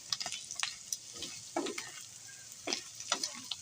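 Filipino bopis with radish and carrots fries in a pan, with close spatula scrapes and stirring knocks coming in irregular bursts over a soft, steady sizzle.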